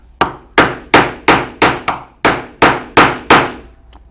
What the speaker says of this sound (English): we will use our slot punch to punch a hole for the buckle tongue